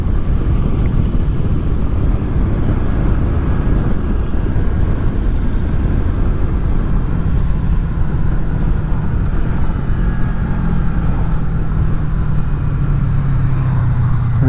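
A Honda VFR800 motorcycle fitted with touring kit, top box and panniers, rides along with a steady engine drone, road rumble and wind buffeting that hold constant throughout.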